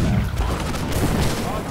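Musket gunfire on a wide-open battlefield in the video game Holdfast, with dense overlapping shots and booms forming a continuous loud barrage. Voices can be heard under it.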